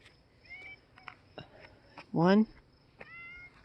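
A cat gives a loud, drawn-out meow close by, with softer chirpy mews before and after it and quiet background noise.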